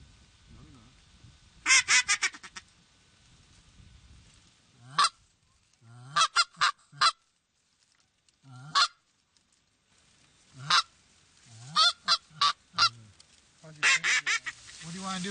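A flock of geese flying in over standing corn during a hunt gives bursts of loud, layered honking, close and repeated in clusters with quiet gaps between them.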